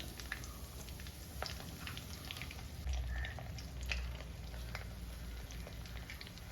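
Soya chunks deep-frying in hot oil for a Kerala-style soya 65, the second batch: a steady, close crackling sizzle with scattered pops and bubbling that runs throughout with no talking.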